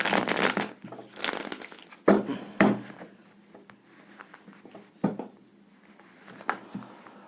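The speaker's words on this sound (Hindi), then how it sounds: "कार्ड्स की शफलिंग" A deck of tarot cards is shuffled nearby in bursts of crisp riffling and slapping, each followed by brief pauses and softer handling sounds.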